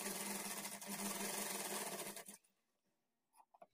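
A sewing machine runs steadily for about two seconds, stitching along the folded edge of fabric for a blouse latkan tassel, then stops abruptly, leaving a few faint clicks and handling sounds.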